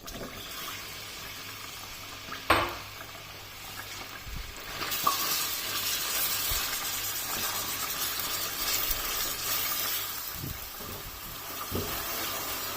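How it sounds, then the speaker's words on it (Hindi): Mutton keema frying in oil with whole garam masala gives a steady, hissing sizzle that grows louder partway through, with occasional clatters and stirring knocks and no voices. "अब इस कीमे को इसमें तकरीबन 4 से 5 मिनट तक फ्राई कर लेना है।"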